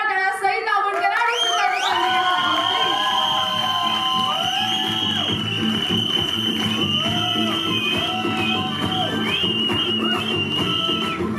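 Crowd applause and cheering at a celebration for a guitar song from a Marathi movie, swelling after a short pause into a loud, sustained wash of clapping and shouts with tonal sounds running through it.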